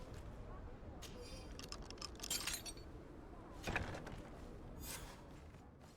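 Keys jangle in short, bright metallic bursts as a door is unlocked in GreedFall, fairly faint against a quiet background, with a few separate clinks spread over several seconds.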